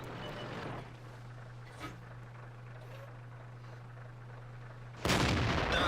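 A Tiger I heavy tank's main gun firing in World of Tanks: a loud, sudden cannon blast at the end after a long quiet stretch with low engine hum and a faint distant thud.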